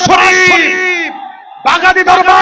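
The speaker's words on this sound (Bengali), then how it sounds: "বাগাদির ময়দানকে কাঁপিয়ে দিয়ে বেঈমানের হৃদয়ের মধ্যে কম্পন সৃষ্টি হয়ে যায়, এমন একটা তাকবীর দেন, নারায়ে তাকবীর" A large crowd at a religious gathering for Eid-e-Miladunnabi roars the takbir response in loud unison, a sustained massed shout that breaks off briefly and then surges again, close and powerful.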